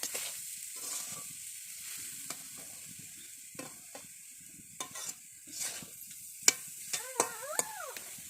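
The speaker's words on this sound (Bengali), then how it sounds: "যে আঙুর ফলটা পেস্ট বানিয়ে ঘিতে ভাজা হয়েছিল সেটা এখন সুজির সঙ্গে মিশিয়ে দিচ্ছে" Grape paste fried in ghee is stirred into semolina in a pan, giving a soft, low sizzle with occasional scraping and stirring clicks, fairly quiet and close.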